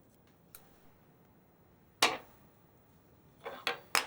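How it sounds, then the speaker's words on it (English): Scissors trim waste thread while a fly is tied, giving a few faint, close snips and clicks at scattered moments, with a small cluster of them near the end, over quiet background. "Pick it out. Trim off the waste."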